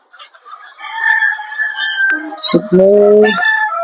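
A village rooster crows loudly and close by in a makeshift poultry shed, its drawn-out call rising and breaking in pitch, with a brief sharp click partway through.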